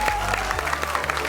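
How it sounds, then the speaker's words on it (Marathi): A crowd at a Marathi television variety show claps loudly in a short, dense burst, with a low musical drone running underneath. "एकदा जोरदार टाळ्या झाल्या पाहिजेत."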